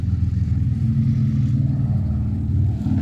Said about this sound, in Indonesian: banyak sekali orang bersepeda motor